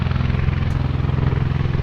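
Military tilt-rotor aircraft landing and taking off at a distance, a steady heavy rotor thump and engine drone with a rhythmic beating pulse, loud and continuous, no talking.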